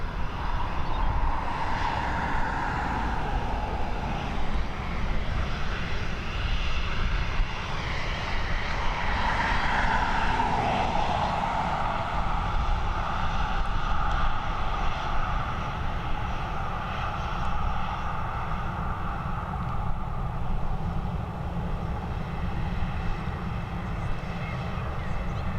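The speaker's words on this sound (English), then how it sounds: "FR1380 heading over to Split, this Boeing 737" A Ryanair Boeing 737 on flight FR1380 to Split at Dublin Airport roars loud and close, its engine pitch swelling and shifting as it passes, then holding in a steady drone.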